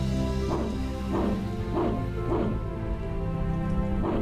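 A dog in the video game Moonchild barks five times in a steady rhythm, each bark short and evenly spaced, over a loud sustained droning background of game music.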